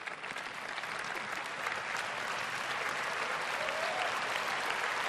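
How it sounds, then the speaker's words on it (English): An audience at an Apple iPhone 6S keynote event gives sustained, dense applause, loud and steady throughout without letting up. "I am applauding you."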